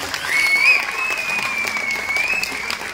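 A crowd at a Sivakarthikeyan event in Coimbatore applauds a speech, loud and continuous clapping filling the whole stretch, with a faint high whistle riding over the top.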